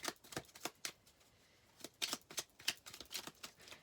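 Tarot cards being shuffled by hand in short bursts of crisp riffling and flicking, a quiet pause in the middle, then several more rapid riffles close by with no talking.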